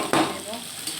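Onion, garlic and chili frying in a pan for a spicy chorchori of frozen Morola fish: a short, fairly loud burst of sizzle and stirring that settles into a steady, softer hiss.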